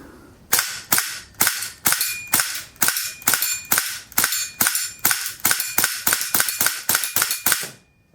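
An airsoft AEG rifle fitted with a Daytona gas conversion fires BBs in about twenty sharp, evenly spaced single shots, loud and close, with no talking.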